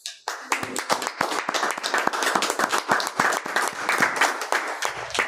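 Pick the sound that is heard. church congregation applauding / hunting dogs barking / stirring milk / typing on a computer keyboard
church congregation applauding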